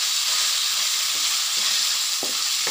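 Ingredients for a tomato egg curry sizzle steadily in a hot pan, a dense hiss running the whole time, broken by a few soft knocks as the mixture is stirred, with nobody speaking.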